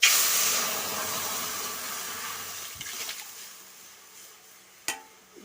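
Hot oil tempered with panch phoron loudly sizzles and hisses as dal is poured in, the burst fading to a gentle simmer, with a clink of a utensil near the end.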